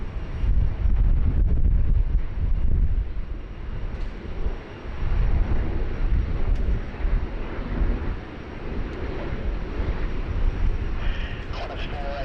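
A Qatar Airways Boeing 777-300ER in retro livery, registration A7-BAC, taxis toward its gate bay at Sydney Airport, a steady heavy engine rumble with wind buffeting the microphone throughout and a person talking at times.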